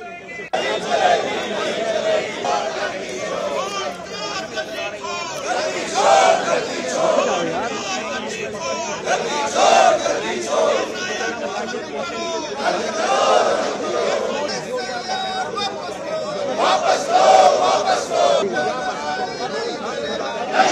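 Opposition protesters gather outside parliament, a loud dense crowd of overlapping shouting voices rising and falling in waves for the whole stretch, with no single chant standing out clearly.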